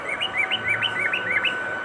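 Breeder cockatiels in an aviary give a quick run of bright, repeated chirps, moderately close and steady over a soft background hiss.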